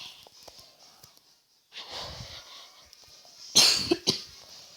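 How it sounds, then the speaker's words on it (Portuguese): A close, harsh cough burst near the end after quieter rustling and a short throat-clearing sound. "Desculpa aí, galera, que eu tossi aqui."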